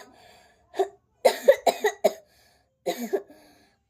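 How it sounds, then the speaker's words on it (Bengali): Harsh coughing from a person with a cough, close by: a single cough, then a quick burst of four or five, and a final cluster of two or three after a short pause. "কাশি হয়েছে"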